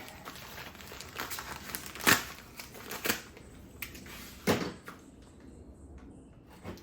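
A bag of tile mortar is cut open during shower tiling, giving crinkly plastic-paper rustling with two sharp ripping bursts and a few softer handling crackles, close up and with no speech.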